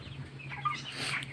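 Nineteen-day-old broiler chickens in a poultry house cluck softly and briefly, with a few low, close calls over a quiet hum of background noise.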